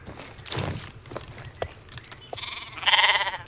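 Sheep bleating in the horse-riding video game Star Stable, a few short bleats with a longer, louder bleat near the end, over light game ambience and soft hoof-like clops.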